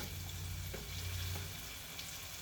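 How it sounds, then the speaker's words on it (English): Vegetables go into a hot pan for a from-scratch Italian pasta sauce and fry in a loud, dense, continuous sizzle with faint stirring taps, near and steady throughout. "we're going to add all of those scrumptious veggies to our pan."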